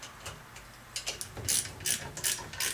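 A hand ratchet tightening three bolts, heard as several short bursts of rapid, close clicking that grow louder and more regular toward the end, with no voices.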